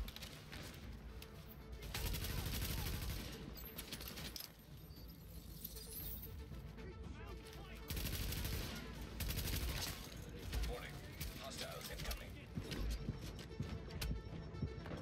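An Uzi-like gun firing in the shooter game The Division, repeated rapid bursts at low volume that come in waves across the stretch, with a voice talking over them.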